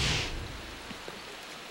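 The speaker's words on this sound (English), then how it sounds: "The rain is really coming down now, Al." Rain coming down hard outdoors on Vancouver Island, a steady broadband hiss that starts loudest and settles into a fainter even wash with scattered soft drops.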